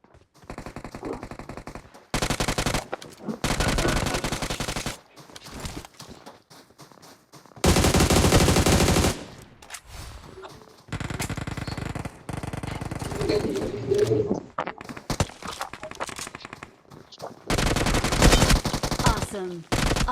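Bursts of automatic gunfire in the mobile game BGMI, several loud rapid-fire volleys of a few seconds each separated by quieter gaps, with a player talking between and under the shots.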